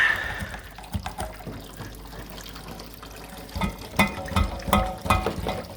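Water rushing and splashing as it flushes out of a hot water tank, a steady gush that grows louder with sloshing bursts and drips toward the end, close by.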